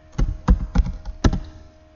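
Keys on a computer keyboard are tapped in a quick irregular burst of about five sharp clicks over two seconds, close and fairly loud with no talk.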